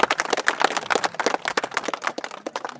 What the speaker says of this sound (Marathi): आपण सर्वांनी त्यांचं मनापासून टाळ्या वाजवून स्वागत करावं